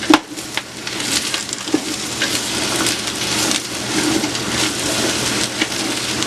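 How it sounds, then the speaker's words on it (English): Onions sautéing in a pan over high heat, a continuous crackling sizzle with scattered sharp pops and occasional scraping clatter, close and fairly loud. "We're going to lightly saute these guys until they're"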